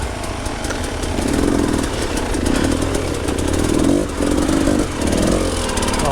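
A Beta dirt motorcycle engine revs loud and close in repeated swells, its rough buzzing note rising and falling over about six seconds without a break.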